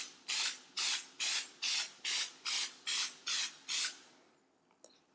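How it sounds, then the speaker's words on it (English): Nine short, even bursts of aerosol spray hiss in a steady rhythm as powdery white developer is applied for nondestructive testing, close and crisp, then a faint click as the spraying stops. "we're just going to give it a couple light sprays"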